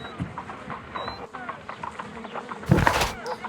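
Bees buzz in a Sherlock Holmes video game as a soft, wavering insect drone under game sounds, with a louder rustling burst near the end.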